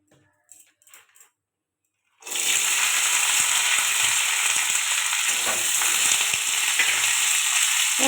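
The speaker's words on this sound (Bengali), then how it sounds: "বিন কড়াইগুলো ভেজে নেব।" Green beans hit hot oil in a pan and burst into a loud, steady sizzle that continues without a break after a couple of seconds of quiet handling sounds.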